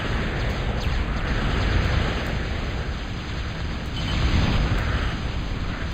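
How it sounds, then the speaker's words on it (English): Bombing explosions in Total Annihilation, a dense, continuous low rumbling roar of blasts blended together, loud and steady with slight swells and no distinct separate hits. "Rock's still doing a bunch of bombing."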